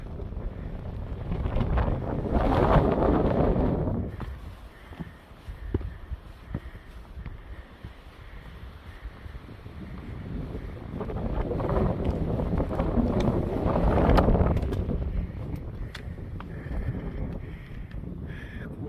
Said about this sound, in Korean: 바람이 시원하게 불어옵니다